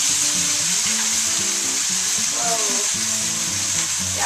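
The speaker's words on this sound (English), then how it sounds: "I put too much oil in, so now it's like splattering" Tofu pan-frying in too much oil, a loud constant sizzle and hiss with splattering, joined by a low tonal voice-like hum that rises and falls over it.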